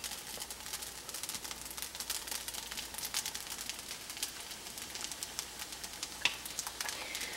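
Beaten egg sizzling as it hits a hot pan of tofu rice and is stirred quickly, a steady faint crackle of frying with small scraping touches, no voices.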